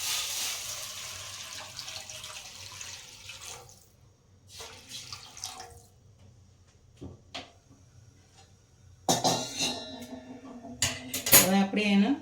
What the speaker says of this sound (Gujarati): હવે આપણે આને અંદર નાખીશું પાણી.